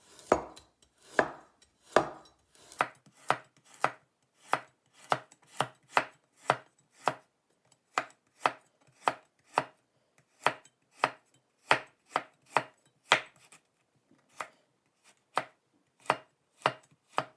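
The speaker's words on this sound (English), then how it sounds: "Our next step is to cut the carrot diagonally." A carrot cut diagonally with a knife on a board: a long run of crisp, evenly spaced chops, close and loud, with brief pauses and no voices.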